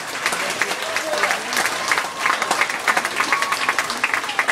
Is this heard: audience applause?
yes